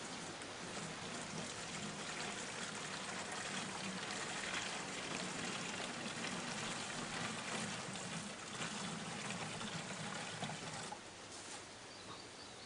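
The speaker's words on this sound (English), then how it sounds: "we're going to pour about 1 litre into this watering can" Weed tea liquid poured by hand into a watering can, with no funnel, makes a steady trickling, splashing stream that runs for several seconds and then eases slightly near the end.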